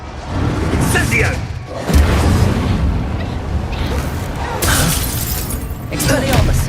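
Incendio fire spell cast in Hogwarts Legacy, loud fiery bursts and shattering crackles in repeated surges over a dense battle din, with voices speaking through it.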